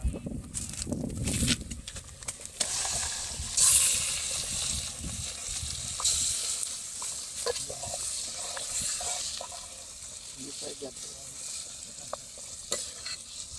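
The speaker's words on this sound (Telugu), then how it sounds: "నెక్స్ట్ మనం మ్యారినేట్ చేసి పెట్టుకున్న చికెన్ వేసేద్దాం" Marinated chicken drops into a pan of softened onions for a Telangana-style chicken curry. Clattering stirs come first, then a steady close sizzle of frying continues with scattered scrapes and taps of the spoon.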